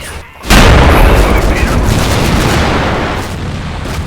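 A heavy boom opens a sustained barrage of anti-tank gunfire and explosions in the Combat Mission: Final Blitzkrieg World War II video game, loud and dense throughout, with a voice faintly present underneath.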